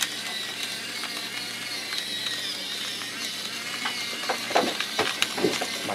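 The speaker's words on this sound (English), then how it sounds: "Let me grab my other salt and pepper grinder set." An inexpensive salt and pepper grinder set grinds at close range, a steady dry ratcheting crunch that grows into sharper, louder clicks toward the end.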